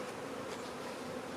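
A steady, moderately loud buzz of a honeybee swarm fills the air around a hive, an even drone without pauses or talk.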